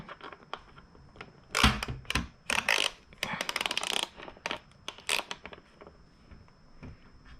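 A wrench works bolts while a carbon tail cover is fitted to a motorcycle, giving irregular close metallic clicks and ratcheting taps in short clusters, with scraping handling noise between.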